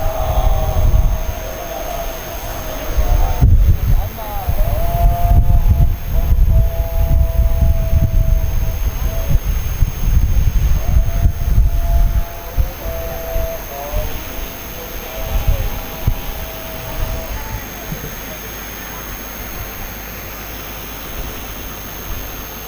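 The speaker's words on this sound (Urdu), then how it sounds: "یہ اذان کی آواز آ رہی؟" A distant Islamic call to prayer (azan) drifts in during a Muharram majlis gathering in Burewala, Pakistan: a faint, drawn-out melodic chant with gliding notes, carried over a low hum and room noise.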